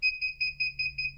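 A KATOOL KT-B760 heat press machine emits a steady series of sharp, high electronic beeps, about six evenly spaced double pulses, loud and close over a faint low hum, with no voices.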